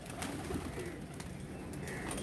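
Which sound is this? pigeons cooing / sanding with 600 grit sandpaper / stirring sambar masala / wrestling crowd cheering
pigeons cooing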